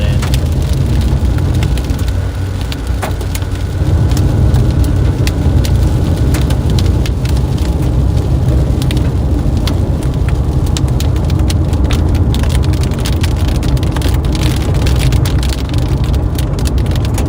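Dense rain and hail pound a car during a supercell storm near Granbury, Texas, a loud continuous roar of drumming with scattered sharper hits, heard close from inside with no talking.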